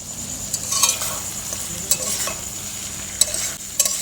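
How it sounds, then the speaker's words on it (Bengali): Chicken stirred in a frying pan with a spatula, giving soft scraping strokes and occasional sharper clinks over a faint steady sizzle, close and fairly loud. "চিকেনটা দিয়ে এই যে একেবারে একটু মিশিয়ে নিচ্ছি"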